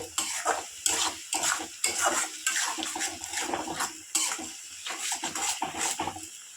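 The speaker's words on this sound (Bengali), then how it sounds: "এবার মশলাটা একটু কষে নেব তেল ছেড়ে আসলে" Spice paste with chili powder, for a Bengali yogurt fish curry, is stirred and fried in oil, giving a steady run of rhythmic scraping strokes over a soft sizzle, close and fairly loud, with no voices.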